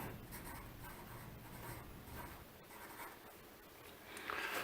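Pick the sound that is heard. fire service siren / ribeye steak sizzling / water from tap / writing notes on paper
writing notes on paper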